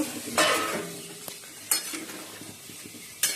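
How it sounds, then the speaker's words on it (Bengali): A spice paste of onion, ginger, garlic and tomato with cumin, coriander and Kashmiri chilli powder sizzles in a pan, stirred with a few sharp scraping strokes over a steady low fry. "মশলা ভালো করে কষি নিচ্ছি"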